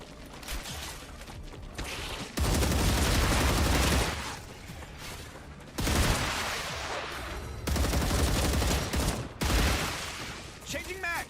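Gunfire in the video game StarRupture, loud sustained bursts of rapid shots in several long volleys separated by short pauses, with game ambience between them.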